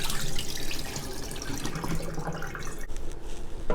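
Water pours and splashes steadily, as if draining from a pot of soaked pork legs into a sink, producing a continuous broadband gush at moderate loudness with no voices.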